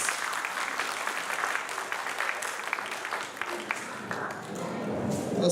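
Sustained crowd applause at a multicultural school show honouring the performers, a steady dense patter of many hands filling the room throughout, with some voices faintly mixed in.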